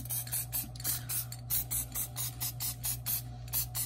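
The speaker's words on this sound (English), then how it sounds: "So I'm going to get my sheet of paper out once again and just gently spray." Sealant aerosol sprayed gently onto a sheet of paper in quick, faint, regular hissing bursts, about a dozen short puffs over a steady low hum.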